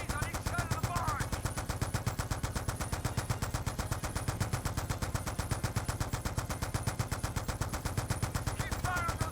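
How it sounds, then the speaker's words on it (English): Sustained rapid machine-gun fire pounds at gunboats alongside a barge in the Call of Duty: Black Ops 2 video game, a dense, loud, unbroken rattle lasting the whole stretch with faint game effects beneath. "They're running MGs on each side of the barge."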